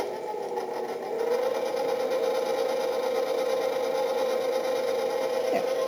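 A stand mixer with a paddle attachment whirs steadily as it blends dry brioche ingredients, a constant motor hum that grows slightly louder after the first second and runs without pause or talk.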